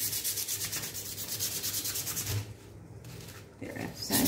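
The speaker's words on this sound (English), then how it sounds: "So I will sand it well." A CD is sanded by hand with quick back-and-forth strokes, a close, rhythmic scratchy rasp that pauses briefly and then resumes at the end.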